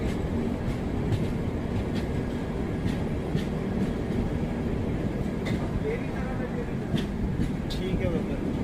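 A train rolls along the railway during an Indian Express journey, giving a steady rumble with rhythmic clicks from the wheels. People talk over the noise.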